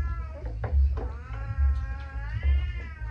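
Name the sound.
cat meowing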